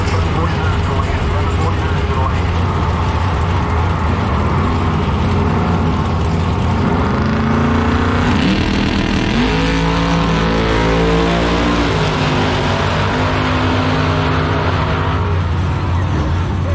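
Outlaw door-slammer drag cars, a Mustang and a Camaro, launch off the line with a loud, sustained engine roar climbing through gear changes, an announcer talking over the noise.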